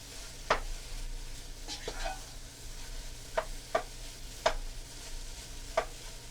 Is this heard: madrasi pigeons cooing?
no